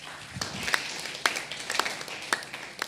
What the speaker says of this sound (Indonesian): Wow, tepuk tangan saudara